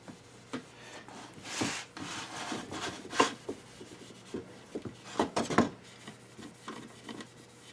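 A rag buffs wax onto a cherry wooden spice box, giving soft, close rubbing and scuffing strokes in uneven bursts, faint and alone.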